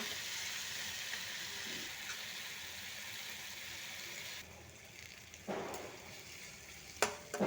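Prawns and cashews frying over high flame, a steady close sizzle that eases midway, then broken by scraping stirs and a few sharp clatters.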